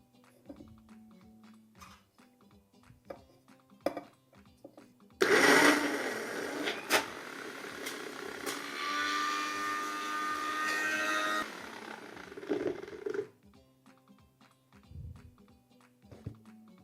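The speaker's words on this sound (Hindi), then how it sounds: "अब हम इसे मिक्सी में पीस लेंगे।" A kitchen mixer grinder grinds puran poli filling in a loud, steady whir lasting several seconds, framed by quieter clicks and handling sounds before and after.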